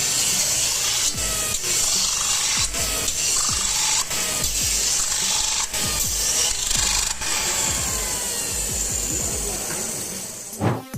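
A machine feeding adhesive and sandpaper to produce sanding discs makes a continuous loud rubbing, rasping mechanical noise with repeated faint clicks, steady throughout and without talk.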